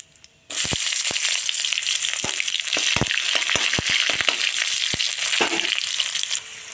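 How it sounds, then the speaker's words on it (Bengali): Chopped onion and bay leaf frying in hot oil while being stirred, a sudden loud sizzle that starts after a moment of quiet, with sharp crackles and spatters scattered through it, close up and without talk. "তারপর দিয়ে দেব তেজপাতা, তারপর দিয়ে দেব পেঁয়াজ কুচি,"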